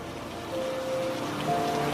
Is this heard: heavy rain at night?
yes